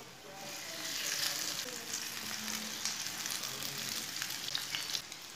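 Breakfast fries in a pan, giving a steady, close sizzle with faint crackles and an occasional stir, with no talking.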